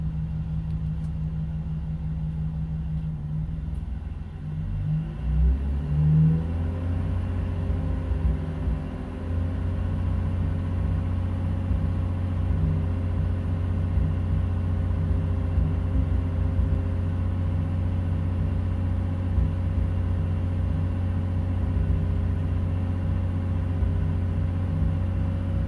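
BMW E46 engine running near and steady after a rough start, lightly revved but held below 2000 RPM, a low continuous rumble heard alone for most of the stretch.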